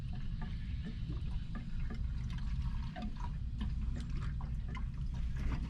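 Gasoline pours from a gas can into a lawn mower's fuel tank, a steady close trickle and splash of liquid with small drips, no talking.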